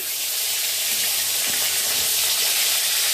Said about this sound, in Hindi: देख सकते हो कैसे फ्राई हो रही है मच्छी, एकदम क्लियर फ्राई हो रही है।